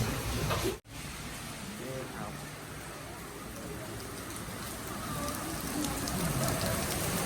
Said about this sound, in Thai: ฝนดันมาตก เยอะมากนะครับตกหนักมากนะครับ